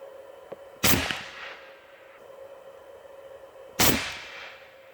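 Two sharp, loud shots from an AEA Challenger Elite .457 big bore air rifle, a few seconds apart, each a close crack with a brief decaying tail outdoors.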